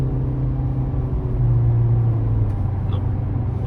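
Toyota C-HR GR Sport 2024 hybrid accelerating: a steady low engine drone and road rumble heard from inside the cabin, moderately loud and continuous.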